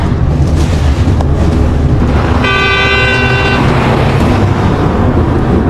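A car horn sounds from a vehicle behind: one clear honk of about a second over a constant roar of road and engine noise.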